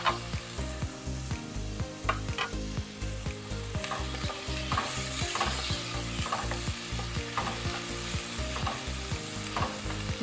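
Tomatoes sauté in a hot pan, sizzling steadily while a utensil stirs and scrapes in repeated close strokes.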